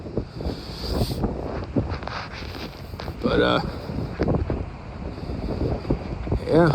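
Gusty wind on a beach at night buffets the microphone with low rumbling bursts, while a person speaks intermittently over it.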